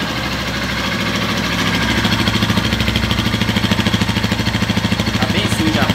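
A Honda Titan 150 motorcycle with an aftermarket exhaust idles on a cold engine, a close, loud, lumpy putter with rapid regular pulses that grow more distinct after a couple of seconds.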